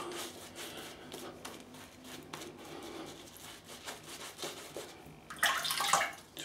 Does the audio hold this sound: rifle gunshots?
no